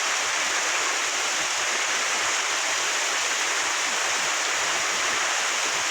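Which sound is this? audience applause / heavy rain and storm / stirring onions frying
heavy rain and storm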